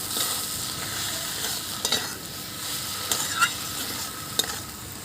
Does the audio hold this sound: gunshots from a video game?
no